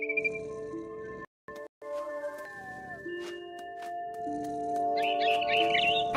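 Soft bird chirps flutter in near the end of a stretch of sustained, layered ambient tones in the video game What Remains of Edith Finch, heard from up in a big tree, with no talking.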